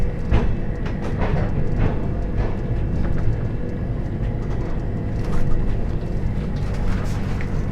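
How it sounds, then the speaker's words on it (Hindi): Inside the Tejas Rajdhani Express running from New Delhi toward Patna, a steady low rumble and rattle of the moving train continues without a break, close and fairly loud. "हमारी ट्रेन चल चुकी है"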